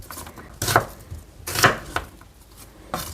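A knife slices through half an onion on a cutting board in a home kitchen: three crisp, close chops at a steady pace with quiet pauses between them.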